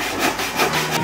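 A handsaw cuts through wood in quick, rhythmic back-and-forth strokes, about four rasping passes in a second, close and clear with no talk.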